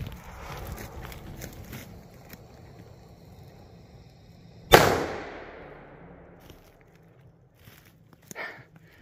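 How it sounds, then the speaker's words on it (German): A single sharp, loud bang from a Piro Union P1 firecracker rings out against a quiet outdoor background, its echo trailing off over a couple of seconds. "Und als Vergleich unseren altbekannten P1-Böller vom Piro Union."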